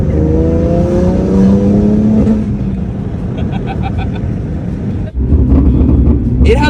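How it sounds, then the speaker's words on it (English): A BMW M3 with its exhaust valve open rumbles loudly and steadily, rising into a revving surge and then settling, with a sharp dip and a burst near the end and brief pops. "I'm gonna turn on the valve for the exhaust"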